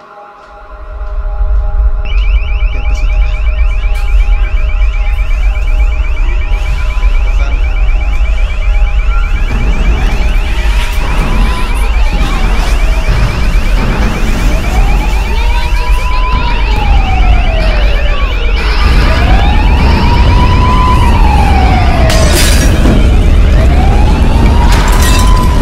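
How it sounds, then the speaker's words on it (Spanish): A loud electronic earthquake warning alarm blares steadily, with a sustained high tone and rising-falling wails repeating over a constant low rumble, continuing throughout. "Está sonando la alarma de sismos."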